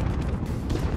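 A grenade going off in a shooter game, a dense low rumbling blast filling the short moment, muffled and sustained rather than sharp.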